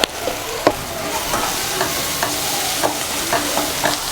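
Curry masala for Kerala meatball curry frying in coconut oil: a steady close sizzle with a spoon scraping the pan in repeated strokes roughly every half second.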